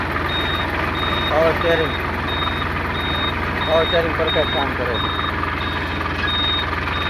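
A 2022 one-owner tractor idles with a steady low engine drone and a repeating high beep, while someone talks over it close by.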